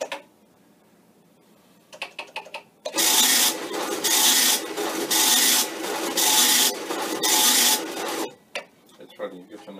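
A Commodore PET tractor feed printer rasps through five rhythmic bursts of dense mechanical buzzing as the print head sweeps back and forth, framed by softer clicks and clatter before and after.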